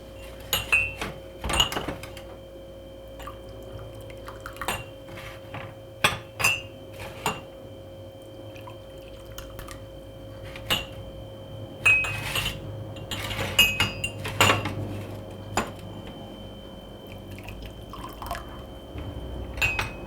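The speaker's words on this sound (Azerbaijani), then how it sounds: "Bir dənə tefalımızı vurum." Dishes and a Tefal pot clink and knock in a kitchen during tea serving, sharp metallic and glassy taps scattered irregularly over a faint steady hum, close and moderately loud.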